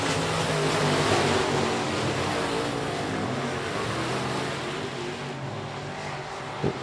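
Race trucks roar around the dirt oval at I-37 Speedway during a Texas Dirt Trucks heat race, a dense, steady wash of engine noise heard from a distance with no one talking.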